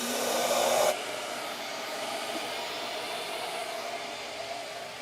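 Shaper Origin handheld CNC router cutting brass, a steady whining hiss with a short louder burst at the start, running continuously and fairly close with no speech.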